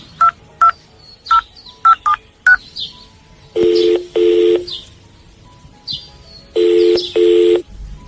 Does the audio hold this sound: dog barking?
no